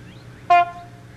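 A single short honk from a horn, loud and close, lasting about a tenth of a second over a low steady hum.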